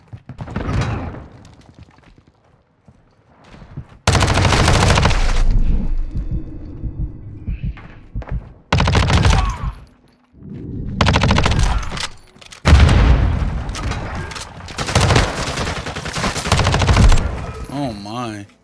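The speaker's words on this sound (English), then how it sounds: "I thought I had the machine pistol out." Loud bursts of rapid automatic gunfire from a machine pistol in the Call of Duty Modern Warfare II beta Search and Destroy mode, long sustained volleys separated by short quiet gaps, with a voice talking in between.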